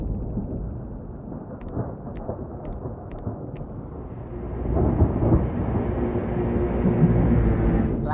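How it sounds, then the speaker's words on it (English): Thunder from a brewing storm rolls in as a low, rumbling roar that swells and grows louder through the second half, with no voices. "Looks like a storm is brewing."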